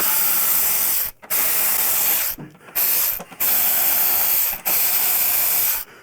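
A battery-powered ratchet backs out the windshield screws on a Harley Street Glide in loud, close bursts of whirring buzz, several runs broken by short pauses.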